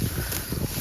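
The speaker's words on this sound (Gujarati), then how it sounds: "મસ્ત ઠંડો હેમ જેવો વાયરો આવે છે" A cool breeze sweeps across a farm field, producing a brief, soft, steady rush of wind noise that gusts against the microphone.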